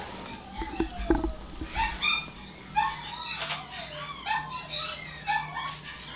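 Dogs bark, yip and whimper in the Metro Exodus video game, a string of short, fairly close calls repeating irregularly over six seconds against a low background.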